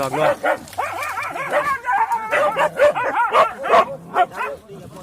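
Several dogs barking and yipping in rapid, overlapping bursts nearby, loud and excited, with some whimpering mixed in.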